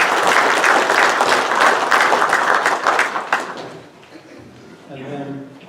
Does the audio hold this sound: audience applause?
yes